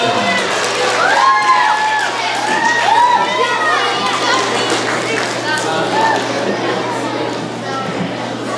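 Children clap and cheer in a school gym at an elementary school geography bee, a lively mix of applause, shouts and bright young voices that stays busy and fairly close for the whole stretch.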